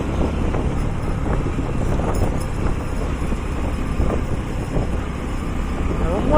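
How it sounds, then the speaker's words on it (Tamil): Steady road traffic with many vehicles streaming past on a busy road near a temple, a continuous broadband rumble of engines and tyres with occasional louder passes, close and loud throughout. "ரொம்பவே வண்டி போயிட்டு இருக்குது"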